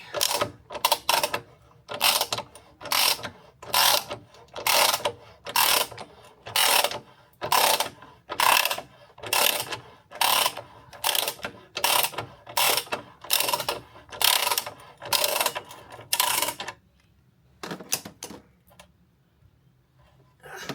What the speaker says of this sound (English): Sid Chrome set here because my King Chrome one didn't seem to have enough torque on it to actually get the bolt out